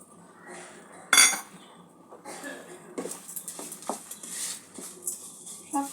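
A utensil stirs coconut and sugar in a pan, starting with one sharp metallic clink and followed by repeated light scraping and tapping. The sounds are close and fairly quiet, with faint background noise.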